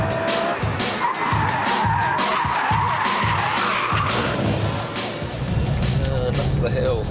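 Tyres of a BMW E46 M3 squeal and skid as the car oversteers on a hilly track, a loud sustained screech over roaring engine noise, with someone talking over it.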